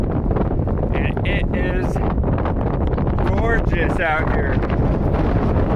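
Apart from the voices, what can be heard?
wind on desert trail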